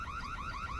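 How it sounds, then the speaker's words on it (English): An alarm at an old town hall wails in rapid repeating rising sweeps, loud and continuous with no talking. "We are already responding to the alarm at the Old Town Hall."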